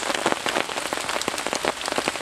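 Steady, dense rain falls outdoors in the wild, spattering on surfaces with many close, overlapping drops in a continuous, fairly loud patter.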